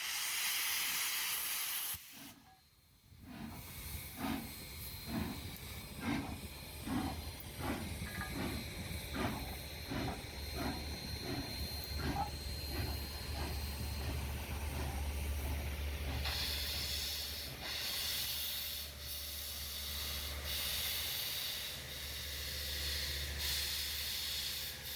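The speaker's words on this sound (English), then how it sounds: "the steam coming out of those cylinder cocks was unimaginably loud" Loud, continuous steam hiss blasting from a steam locomotive's open cylinder cocks, with a rhythmic series of chuffing bursts through the first half and then a steady roar of escaping steam with low rumble underneath.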